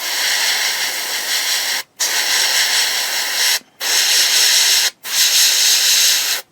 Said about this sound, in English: I'm now using the fine control of the airbrush just to pick out the centres of the panels